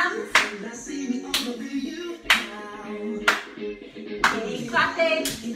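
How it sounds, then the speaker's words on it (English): Hands clapping along in a children's disco dance class, six sharp claps spaced about a second apart in a steady beat over backing music, close and clear. "Clap those hands."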